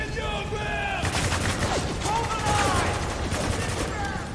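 Spec Ops: The Line firefight, with loud sustained automatic gunfire rattling and cracking nonstop alongside scattered shouting voices.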